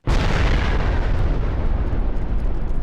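A sudden loud explosion in a realistic survival video game blasts in with a sharp onset, then rolls on as a heavy, sustained rumble for a few seconds, close and dominant with no speech.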